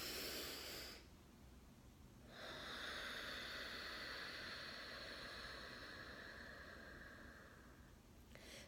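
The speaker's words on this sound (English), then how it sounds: "instead of breathing through the mouth, you're actually breathing in through the nose" Slow yoga-style breathing in and out through the nose, heard as long, soft, airy hisses close to the mic with a brief quiet pause between them, no talking.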